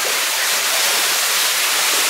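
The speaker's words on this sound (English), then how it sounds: "This is that rushing water running down there." Rushing water running down a shaft inside the Buca Della Vena underground mine, a loud, continuous hissing roar heard alone without any talk.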